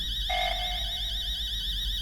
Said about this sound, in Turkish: Alarm çalıştırdı.